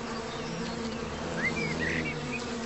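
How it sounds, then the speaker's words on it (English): Honeybees buzz at a hive entrance as foragers return, a steady, close, droning hum of many wings with a few individual bees whining higher as they pass by, no voices. "Honeybees coming back from a day's work are checked for a unique scent before they are okay to enter the hive."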